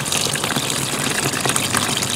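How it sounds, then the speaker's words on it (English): Nutrient water gushes steadily as it is poured onto seedlings being transplanted, a close, continuous splashing rush with no pauses. "pour a bunch of this water in so these can be soaking up some nutrients and some water"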